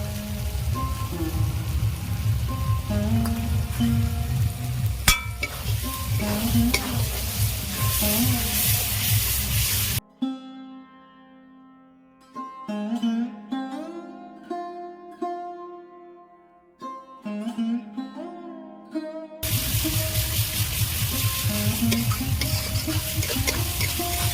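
Green chilli and garlic paste frying in a pan for an echor chingri dish: a loud, dense sizzle with stirring, broken midway by a quieter stretch with tonal sounds before the frying returns at full strength.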